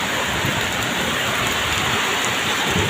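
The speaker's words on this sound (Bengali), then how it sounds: "আল্লাহ কি বাতাস, কি বৃষ্টি" Heavy, steady rain pours down in Malacca, Malaysia, a dense continuous hiss with driving wind, loud and close throughout with no talking.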